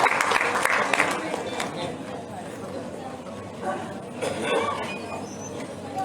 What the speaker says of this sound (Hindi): बच्चों के लिए तालियां जरूर बजनी चाहिए।